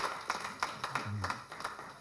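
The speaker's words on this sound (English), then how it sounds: "Another hand clap for UNEB with a special way, really." Scattered, fairly quiet clapping from an audience at an exam results announcement, individual claps clearly separated, with a brief low murmur partway through.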